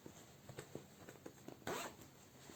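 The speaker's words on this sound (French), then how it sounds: "Et la fermeture éclair." A zipper on a pair of sewn trousers is run along its track in a series of quick, close ratcheting zips, ending in one longer, louder pull, with no talk over it.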